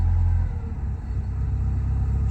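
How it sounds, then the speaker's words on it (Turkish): A car engine running unevenly on petrol, a steady low rumble with a slightly shaky, uneven pulse, close and fairly loud with no voices. "benzinden pek dengede çalışmıyor araba. Biraz sarsıntılı çalışıyor."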